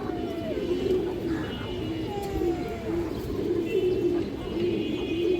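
Muslodom pigeons coo in low, rolling murmurs that repeat steadily throughout, close by, over a constant background hum with occasional faint chirps.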